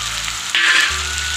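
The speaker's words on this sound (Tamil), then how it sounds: "இப்போ நம்ம உப்பு போட்டு வதக்கலாங்க" Tomatoes sautéing with salt in a pan for tomato chutney, a steady close sizzle that briefly brightens and intensifies as the salt goes in, then settles back to a softer hiss.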